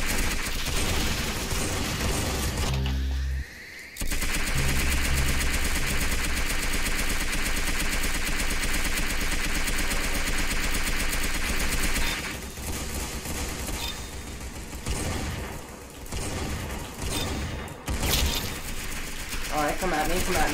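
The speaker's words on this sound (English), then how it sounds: "This gun sounds so sick." A gun in the online shooter game Arsenal fires in a dense, continuous loud stream of shots with one short pause early on, close and dominant, with a player's voice mixed in.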